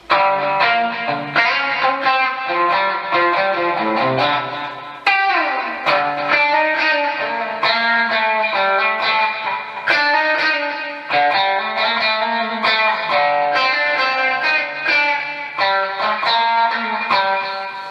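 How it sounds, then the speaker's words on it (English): Clean electric guitar, a PRS SE Custom 24, plays ringing chords and arpeggiated notes for a long stretch, bright and sustained with no distortion, and no voices. "Alright, so these are the clean tones."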